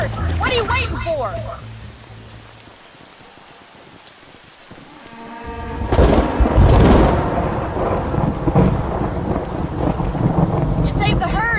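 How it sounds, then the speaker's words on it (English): A thunderstorm with rain in the video game Red Dead Redemption brings heavy, loud rolling thunder and hissing rainfall. It eases briefly midway, then surges again, with wind buffeting throughout. "The storm's getting worse."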